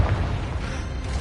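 A short, loud Confringo explosion from Hogwarts Legacy combat, a dense low boom with a rumbling tail, no talking.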